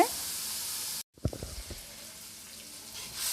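A spice masala tipped into hot oil in a kadai for bitter gourd (karela) bursts into a sharp sizzle after a brief pause, then settles into a softer, steady hiss up close.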